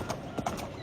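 Horse hooves clip-clopping at a stable, three or four soft, spaced footfalls over a low background hum, fairly close but quiet.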